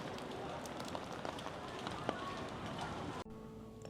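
Rain falling on the streets of Intramuros in Manila, a steady close patter with scattered drop hits that cuts off abruptly near the end.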